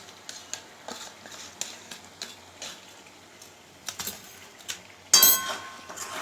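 Chicken with curd, Kashmiri chilli powder and green chillies is stirred in a pan, giving a series of scattered soft scrapes and clinks, with a louder burst of sizzling and scraping near the end.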